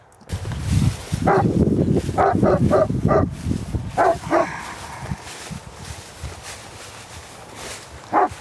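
A dog barks in quick repeated bursts close by on a livestock farm, a run of sharp woofs followed by a couple more after a pause over steady background noise.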